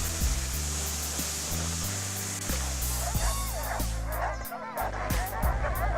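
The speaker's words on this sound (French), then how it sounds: "Les chiens, eux, ne sont pas d'accord et ils le font entendre." Sled dogs barking and yipping during a rest stop on a winter trek through a frozen lake region, repeated loud close barks with whimpers amid a restless pack, some voices mixed in.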